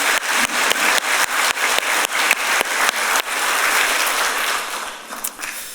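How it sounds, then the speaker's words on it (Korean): A church congregation in a Korean service applauds the choir after a hymn, first in rhythmic unison claps, then dissolving into a sustained, full round of applause that fades out with a few last claps. "박수 하나 드립니다."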